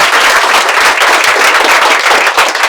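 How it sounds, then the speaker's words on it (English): A classroom audience claps loudly and energetically for themselves, a dense, close, sustained burst of applause with no pauses. "This time you should clap for yourself, but better than this."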